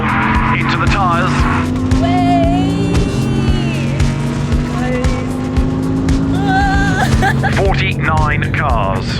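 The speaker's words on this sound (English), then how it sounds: "the cars accelerate down towards turn 1. This opportunity to get a bit of warm into the tyres" A field of 49 race cars accelerates at the Hockenheimring toward turn 1 while warming their tyres, with loud sustained engine drone and rising pitches from many cars layered densely throughout.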